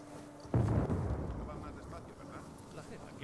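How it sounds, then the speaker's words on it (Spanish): In Uncharted 4, a sudden loud explosion bursts in after a quiet moment, rumbling and decaying over several seconds, with a second blast starting at the very end. "No hago más que escuchar explosiones."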